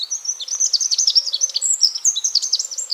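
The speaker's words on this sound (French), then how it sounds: "Ça fait du bien d'entendre ces petits oiseaux là. Troglodytes." Wren birdsong rings out near a river, a rapid, bright stream of high trills and chirps delivered continuously and close, with nothing else beneath it.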